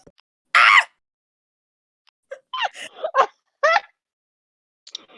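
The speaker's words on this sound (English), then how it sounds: "I sneeze midway into it." A single sharp sneeze bursts out close by, followed after a pause by a few short vocal sounds, with a faint click near the end.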